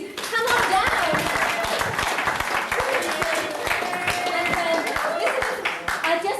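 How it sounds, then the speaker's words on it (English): Audience at a comedy show gives a big round of applause, dense steady clapping lasting several seconds, with scattered voices and cheers mixed in. "big round of applause, please"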